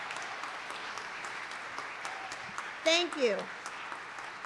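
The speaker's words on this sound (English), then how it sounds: "So can you please give them all a round of applause?" Audience applause at a college day event at Brown University, a steady crowd clatter of clapping with a brief voice speaking over it near the end.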